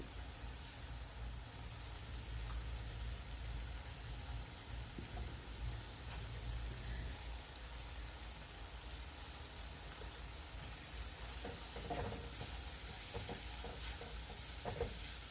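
Tablespoon of butter and tablespoon of flour cooking together in a pan for a mushroom sauce, a low continuous sizzle with occasional stirring clicks, fairly quiet and steady throughout.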